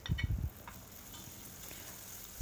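Minced garlic is dropped into hot oil in a pan for koshari sauce, opening with a few close, loud thumps and sizzles that settle into a steady, faint frying hiss, with no talk.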